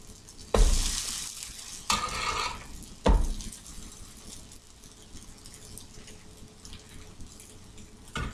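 Vegan French toast frying in a pan is flipped over several times, each turn setting off a loud burst of sizzling that fades into a steady, lower frying hiss between turns.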